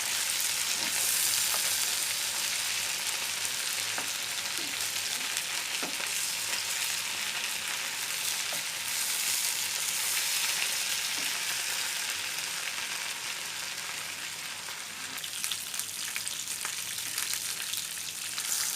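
Hilsa fish frying in a pan makes a continuous, close, even sizzle with faint crackles throughout, with no one speaking.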